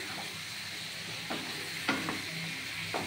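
Ground spice masala frying with chicken for a Bengali-style chicken jhol, a close soft sizzle with a few scraping stirs of a spoon in the pan, with no talk.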